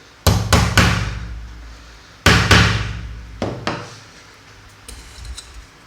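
A hammer strikes a punch to mark drill holes on metal antenna elements for a simple Yagi cross-dipole satellite antenna, in sharp metallic clanks grouped in quick pairs and triples with ringing decays and short pauses.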